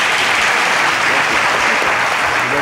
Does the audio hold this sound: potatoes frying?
no